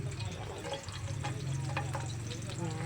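Sapsap fish fries in a pan, a dense crackling sizzle with small pops and spatters running continuously, close up, with faint background noise.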